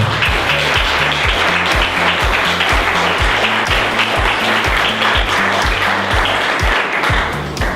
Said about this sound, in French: Monsieur Sergi Vance, que je vous demande d'applaudir très très fort.